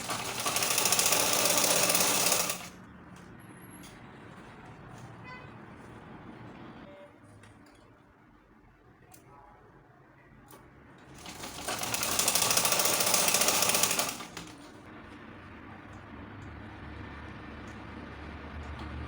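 A sewing machine stitches thread over stretched elastic for a shirred smocked top, running in two loud fast-rattling bursts, with quieter handling noise between them.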